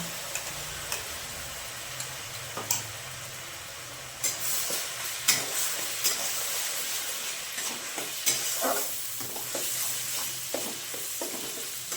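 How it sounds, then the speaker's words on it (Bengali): Paste made from two medium onions fries in a pan with a continuous sizzle, broken by irregular clinks and scrapes of stirring that grow busier partway through. "পেঁয়াজটা একটু ভাজা ভাজা হোক।"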